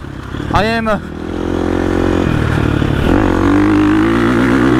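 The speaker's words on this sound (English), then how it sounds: "So I found myself being in a different gear than usually on my straight motocross bike." A motocross bike engine drones steadily while riding, loud and close. A brief rising whine comes early, then the engine holds a sustained, even note that steps up slightly partway through. No one talks.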